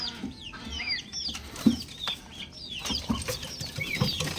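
White kelso and sweater kelso chickens, about three months old, make scattered soft clucks and chirpy calls in a backyard, with a few louder close sounds over a quiet rustling background.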